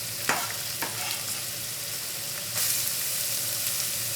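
Garlic and onion sizzle steadily in hot cooking oil over high heat, a constant bright frying hiss with a few sharp crackles and stirring clatters near the start, growing slightly louder partway through.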